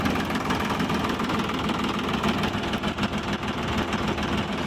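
A modified Ford 3610 tractor engine runs steadily in second low gear, a continuous rumbling drone with a knocking texture throughout.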